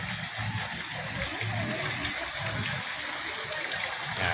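A garden water fountain at Phaya Thai Palace splashes and gurgles steadily at close range, a continuous rushing spray with no break.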